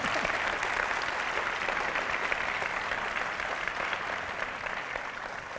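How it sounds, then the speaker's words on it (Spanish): An auditorium crowd at an award presentation gives sustained, even applause, a thick wash of many hands clapping that holds steady for several seconds. "Aplausos, por favor."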